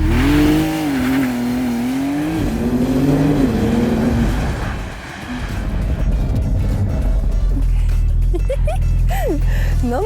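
A Porsche 911 Turbo S Cabrio on a race track accelerates at full throttle, its engine note climbing through gears, loud and close inside the car, with people talking over it.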